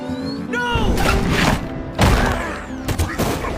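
Bursts of gunfire crackle amid a dense, chaotic battle mix in the animated series Invincible, with heavy thuds and a loud impact near the middle, then more shots toward the end.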